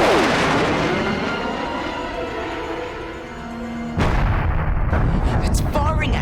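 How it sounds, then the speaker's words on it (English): Cannon fire in a sci-fi space scene aimed at an asteroid: a deep, sustained rumbling blast with a falling whine, then a sharper, louder burst with crackling high bursts near the end; no voices over it. "It's firing at us."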